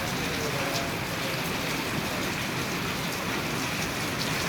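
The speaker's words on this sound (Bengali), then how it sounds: "এখনো বৃষ্টি হচ্ছে।" Steady rain pours down on a cloudy day, a dense, even hiss of drops that stays constant and close throughout.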